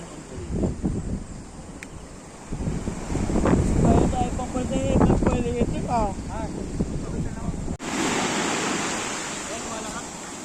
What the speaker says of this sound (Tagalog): dahil nga sa sobrang lakas ng alon at ang lakas din ng hangin